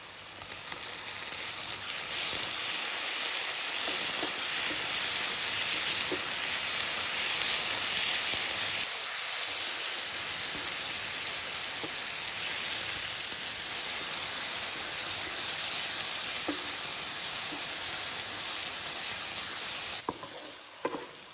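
Thick ground masala paste fries in hot oil with a constant loud hiss and sizzle, and occasional faint scrapes of stirring.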